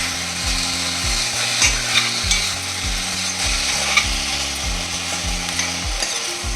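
Onions with coarse salt and turmeric being stirred in a hot pan, a steady scraping and sizzling with repeated rhythmic strokes, close and alone without voices.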